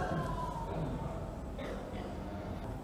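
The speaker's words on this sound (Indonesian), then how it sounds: "adzan dulu silakan muadzin" An Islamic call to prayer chanted by a muezzin at a religious study gathering, a sustained wavering melodic voice heard at a distance through a loudspeaker, mixed into steady room noise.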